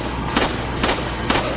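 Enemy gunfire in the video game Resident Evil 4, heard as three spaced shots about half a second apart over a steady, dense game background.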